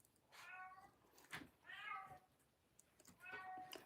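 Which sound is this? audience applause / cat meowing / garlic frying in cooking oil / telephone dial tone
cat meowing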